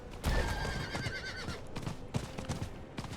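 A horse in Diablo IV, the video game, gives a loud, clear neigh that shakes with a rising-falling whinny. Hooves clatter and there are sharp game impacts around it.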